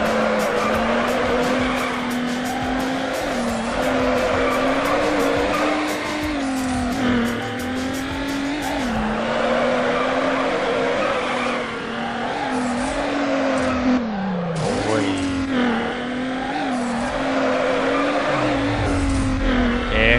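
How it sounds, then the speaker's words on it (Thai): Racing car from Need for Speed Underground, a Hyundai Tiburon GT, engine droning loudly and shifting pitch as it revs, with repeated tire squeals and skids over the steady roar. "มันมีเสียงรถในเกมก็มาแทรกนะ"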